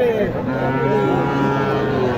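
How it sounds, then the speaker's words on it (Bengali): A Gir cow moos loudly and close by at a cattle market, one long sustained low bellow with no talk over it. "এটা গির গরু"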